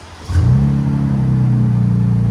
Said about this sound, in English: So that's what it sounds like with just a muffler delete.